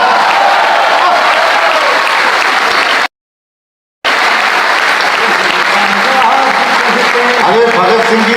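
Loud, sustained audience applause at a Hindi poetry recital (kavi sammelan) at NIT Jalandhar, with dense continuous clapping that briefly cuts out before resuming just as strongly.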